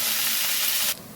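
A spice paste of ginger, garlic and onion fries in hot oil for a Bengali fish-head muri ghonto, giving a loud, steady sizzle that drops abruptly near the end.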